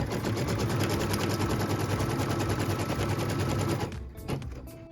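A sewing machine stitches a tack down line on a quilt piece, a fast, even mechanical rattle close by that runs steadily for about four seconds before stopping.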